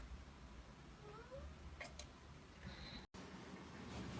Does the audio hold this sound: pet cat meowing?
yes